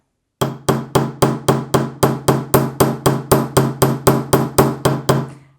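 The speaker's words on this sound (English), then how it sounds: "And the more you hammer, the more flat it becomes." A long run of evenly spaced hammer blows flattens jewelry wire on metal, about three per second, sharp, loud and close, with no talking.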